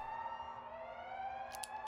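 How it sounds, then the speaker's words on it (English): An alarm sounds in the horror video game Neural Parasite as a steady, sustained, siren-like tone rich in overtones. It holds for the whole stretch, with a few short clicks of noise near the end. "the alarm went off. I better prepare myself."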